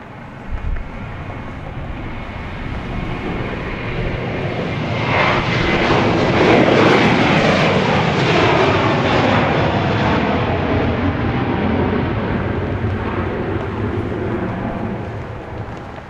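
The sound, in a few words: airliner on a flight to Las Vegas at Dallas Love Field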